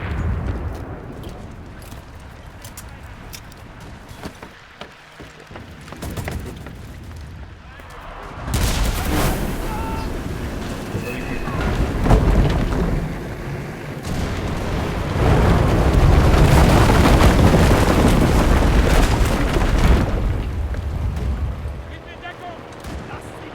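Gunfire and explosions in the video game Enlisted: scattered shots at first, then heavy booming blasts and sustained rumbling fire that grow louder toward the end. A voice talks over the battle.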